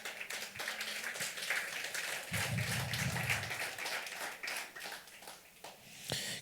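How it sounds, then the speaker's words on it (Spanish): Church congregation applauding during a Spanish-language sermon, a steady wash of clapping from a large crowd with a brief lull and a low murmur in the middle. "Dale un aplauso fuerte al Rey."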